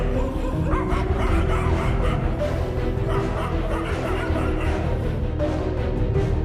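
Several dogs ambush a kitten, barking and yipping continuously and close by, with whimpers mixed into the loud, overlapping chorus.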